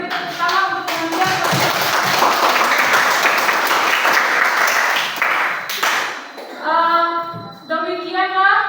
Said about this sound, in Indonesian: mari kita beri tepuk tangan untuk pengajian